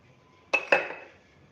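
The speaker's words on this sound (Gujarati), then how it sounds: "ધાણા લીધા છે એને પણ આમાં ઉમેરી દેશું" Coriander seeds tipped into a pan with fennel seeds for dry roasting, two quick bright clinks of metal against the pan followed by a short rattling scatter, alone and close.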